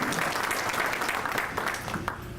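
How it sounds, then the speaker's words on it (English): Audience at a Springfield Police Department memorial and awards ceremony claps steadily, a dense burst of applause filling the room throughout, fairly loud and unbroken. "Feel free to give her applause."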